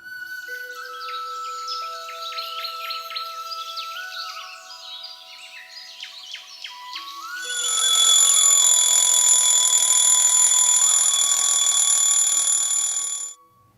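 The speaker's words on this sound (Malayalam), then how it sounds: "അലാറം അടിച്ചത് കൊച്ചു കേട്ടില്ലയോ?" Chirpy electronic tones give way to a loud, continuous alarm clock ringing that holds steadily for several seconds before stopping abruptly.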